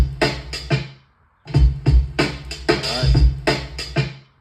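A drum break played dry from an MPC2000XL with no outboard processing, a short beat of punchy kicks and snares with a brief gap after the first bar, thinner and plainer in tone, heard alone.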